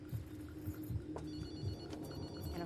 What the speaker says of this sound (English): And her phone was ringing.